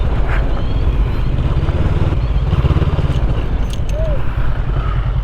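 Heavy motorcycles idle and pull away together on a rough trail near Sitio Mapita in Zambales, a steady low engine rumble filling the scene with some clatter, as voices talk over it.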